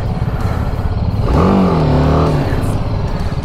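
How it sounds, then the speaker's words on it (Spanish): An SZ trail motorcycle off-road gives one close, loud rev that climbs and then falls back over the steady idle of its engine. "La moto no avanci, llavors dones gas."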